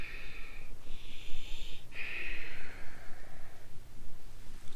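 Breath during a restorative yoga stretch comes as airy, wheezy inhales and exhales, a couple of long drawn breaths heard close up with no talk over them.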